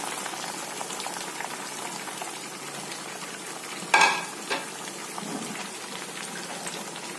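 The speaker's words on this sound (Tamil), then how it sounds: "இந்த 3 வெங்காயத்தையும் ஆயில்ல போட்டு பொரிச்செடுக்க வேண்டியதான்" Three onions frying in hot oil for Malabar chicken dum biryani, a steady bubbling sizzle with one louder crackling burst near the middle, heard close and alone.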